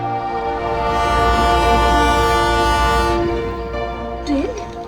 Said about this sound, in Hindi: ये ट्रेन अब तक मरी नहीं, फिर से चल पड़ी।